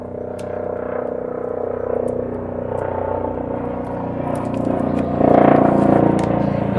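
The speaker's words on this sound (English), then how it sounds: "Nice helicopter going above," A helicopter passes overhead, a low rumbling, throbbing drone that builds and grows louder toward the end, with a few faint clicks and scrapes nearby.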